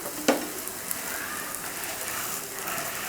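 A cabbage thokku dosa sizzles faintly on a hot griddle, a soft continuous crackle with one sharp click near the start and a few light taps as it cooks.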